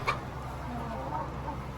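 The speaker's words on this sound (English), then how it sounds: "Chickens!" A few soft clucks from chickens close by, brief and low against a quiet room-like background.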